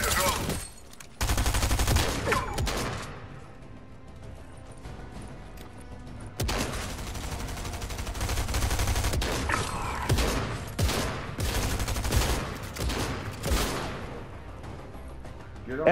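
During a Fortnite trio match, sharp sniper shots crack out among loud bursts of gunfire, with a quieter lull in the middle before the firing resumes, and faint talk beneath the noise.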